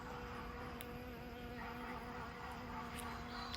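Bees buzz around blooming flowers in a summer garden, a steady faint hum that carries without break and stays fairly distant and soft.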